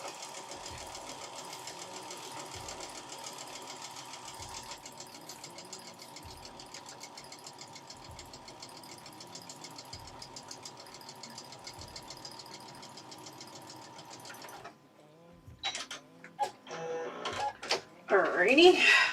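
A sewing machine stitches a quilt seam in a steady, fast mechanical whir with regular faint thumps, running for about fifteen seconds before stopping into louder handling clatter; a person talks at times.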